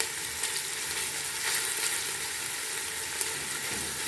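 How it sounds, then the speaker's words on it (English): Onions, ginger and garlic fry in a pan for pilau, a steady close hiss and crackle of oil that holds evenly for several seconds, with a small clink near the end. "This is onions and ginger. There's also some garlic inside here. So I'll mix the onions until they are a bit golden."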